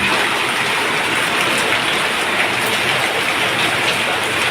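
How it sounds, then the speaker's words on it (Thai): Steady rain falls at a garden home beside a canal, a loud, dense, unbroken hiss of drops with no voices and no pauses. "บรรยากาศฝนตกอะค่ะวันนี้ฝนตกจ้ะ"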